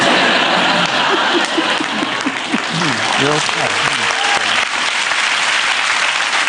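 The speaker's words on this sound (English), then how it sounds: "There's a man clapping that." Studio audience on a television talk show breaking into loud, sustained applause, with voices and laughter mixed in under the clapping.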